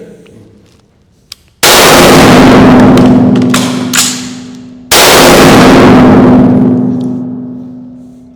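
Two loud, sharp gunshots from a suppressed firearm crack close by, each followed by a long ringing decay, with a faint click before the first shot.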